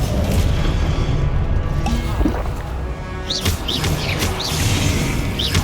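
Confringo spell blasts in Hogwarts Legacy, a deep booming impact early on followed by several sharp fiery bursts and crackles in quick succession, loud and close.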